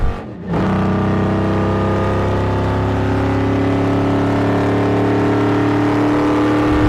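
1968 Dodge Charger race car number 462 at full throttle on a speed course, a loud, close, sustained engine roar with steady harmonic drone after a brief initial dip, no talk.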